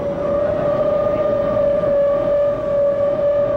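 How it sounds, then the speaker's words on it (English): A loud, steady civil defense siren wails continuously over New York during a daylight atom bomb drill, holding a sustained tone with little variation throughout. "The siren's wail sends New York's inhabitants to shelter."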